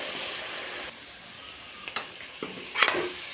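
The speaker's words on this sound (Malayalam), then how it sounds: "1 സ്പൂൺ മല്ലിപ്പൊടി എന്നിവ ചേർത്ത് നന്നായി വഴറ്റി മസാലയുടെ പച്ചമണം മാറ്റുക." Masala sautéing in a pan with coriander powder for chana masala: a soft sizzle fades after the first second, then a few sharp scrapes and clinks of a spoon stirring against the pan.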